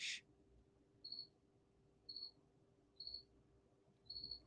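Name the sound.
crickets chirping outside basement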